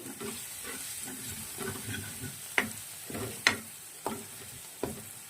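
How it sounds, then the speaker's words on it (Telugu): Ginger garlic paste sizzles and fries softly in a pan while a spoon stirs and scrapes it, giving several sharp clinks over the steady low crackle, with no voice. "ఇప్పుడు అల్లం వెల్లుల్లి పేస్ట్ బాగా వేగిపోయింది."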